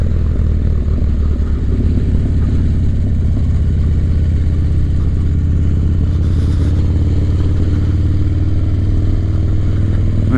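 A 1985 Harley-Davidson FXR engine rumbles loud and steady while cruising, with a deep, even throb that holds throughout.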